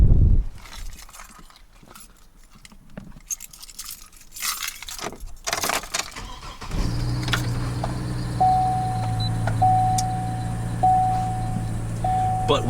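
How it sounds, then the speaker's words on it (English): 2008 Chevy Trailblazer, a used SUV, starting up after jangling keys and cabin rustling, with the engine catching and settling into a steady idle while warning chimes beep repeatedly. "Car starts up right away."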